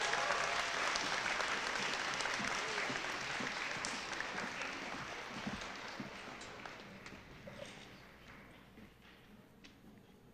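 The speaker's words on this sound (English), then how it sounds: "A round of applause for these accomplishments of these students." An audience at a World Language Honor Society induction ceremony claps for the students' accomplishments, dense sustained applause that gradually thins and tapers off over about ten seconds.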